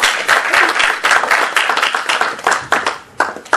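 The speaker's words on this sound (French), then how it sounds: "Applaudissements s'il vous plaît." Audience applause breaks out at a festive gathering of PDCI-RDA women's union members in Paris, dense rapid clapping from many hands that swells and dips, thinning briefly near the end before picking up again.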